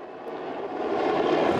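A helicopter circles above a large army and police sweep of a public jail in Manaus, its steady rotor and engine drone continuous and moderately loud at a distance, with no talk.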